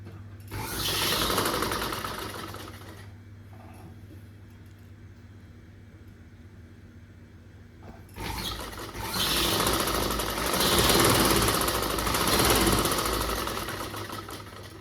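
A sewing machine stitching two lehenga panels together runs in two long, loud bursts of whirring, with a quieter pause between them.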